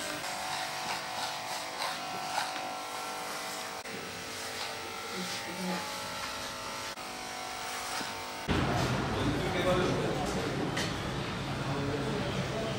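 Electric hair clippers buzz steadily through a men's haircut at a barber shop in Kızıltepe, Mardin, with people talking over the hum; the sound grows louder and denser partway through.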